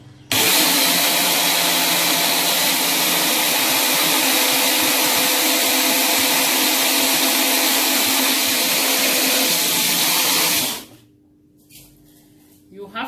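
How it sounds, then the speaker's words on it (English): A blender grinding a cup of black seed runs loud and steady for about ten seconds, a continuous motor whine that cuts off abruptly, leaving near silence. "Use your blender to blend."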